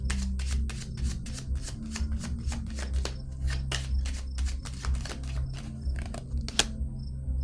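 Tarot cards being shuffled, handled and laid down on a surface, a steady run of soft papery flicks and taps repeating close by at a quiet level, with no one talking.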